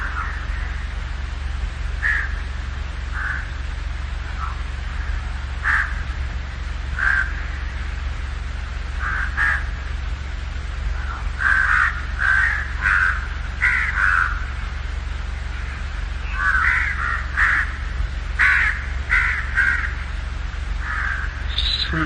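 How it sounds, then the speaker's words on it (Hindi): Crows cawing again and again in irregular bursts, some single calls and some quick runs, over a steady low background hum, with no talking. "पक्षियों की वाणी को"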